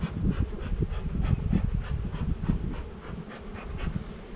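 Honey bees buzz steadily around a nuc hive, a dense close droning hum with a rough, fluttering texture that carries on unbroken and fairly loud throughout, no voices over it.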